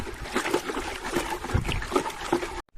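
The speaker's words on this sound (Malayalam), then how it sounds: "ഞാൻ എന്തായാലും നന്നായിട്ട് ഇളക്കി മിക്സ് ആക്കട്ടെ" Fertilizer for cardamom plants being stirred into water in a container, giving close, rhythmic swishing and sloshing strokes with small splashes, alone with no talk.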